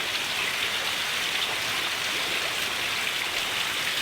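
Dense, steady downpour of heavy monsoon rain in Khamidana village, Keshod, Gujarat, hissing continuously, even and unbroken, with no voices.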